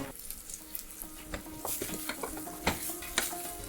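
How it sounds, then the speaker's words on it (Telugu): Garlic fries in hot oil in a pan for fenugreek leaf and moong dal curry, a soft steady sizzle broken by irregular scraping stirs of a spoon, close but quiet. "లైట్ గోల్డెన్ బ్రౌన్ వచ్చే వరకు ఫ్రై చేసుకుందాం"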